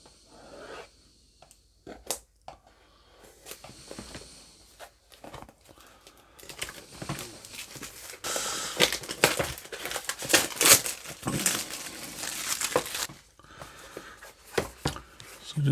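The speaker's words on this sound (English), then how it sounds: "Let's get the cellophane wrapper off and see what's inside." A cellophane wrapper is torn and crinkled off the box of an Ulanzi SK-03 160cm selfie stick tripod. Sparse handling clicks build into a dense stretch of close crackling and ripping midway, then thin out to scattered rustles.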